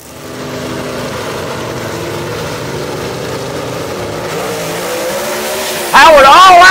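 A gasser drag race car launches down a dragway at Kil-Kare Dragway with a loud, sustained engine roar that builds steadily, then a sharp tire squeal breaks in near the end as the car wiggles, with a commentator talking over it.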